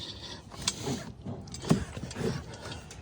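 A half-inch wrench spins a nut off a bouncy castle fitting, giving brief, close, light metallic ratcheting clicks and scrapes in a short burst.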